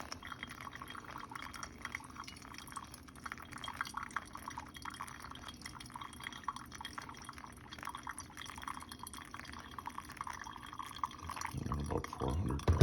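Water is poured over ground coffee in a pour-over brewer, 50 grams of beans to 750 grams of water, giving a steady, low trickling pour that runs throughout and ends with a brief louder clatter.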